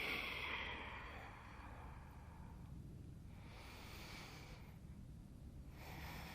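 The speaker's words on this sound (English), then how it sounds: "just breathe 3 big breaths here" Slow deep breaths during a yoga stretch for lower back pain, soft close inhales and exhales at a gentle, unhurried pace, quiet and alone.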